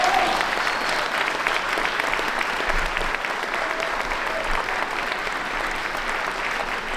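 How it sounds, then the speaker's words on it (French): An audience at a New Year's wishes ceremony in Callian applauds, a continuous, even round of clapping from a large room lasting about seven seconds, with a faint low thump partway through and no clear speech. "Et je pense que ça leur ferait plaisir d'avoir quelques applaudissements."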